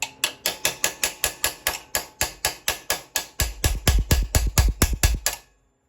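Rapid, evenly spaced metallic clicks like a ratchet being worked on a Briggs and Stratton V-twin engine during a sump gasket replacement, about twenty strokes, close and crisp, with heavier thuds in the final seconds before stopping.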